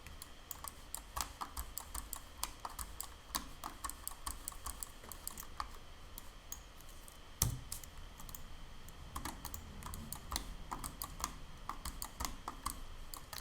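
Fingers tap out a word on a computer keyboard during 3D modeling work, giving quiet, irregular key clicks with a sharper press partway through, in an otherwise hushed room.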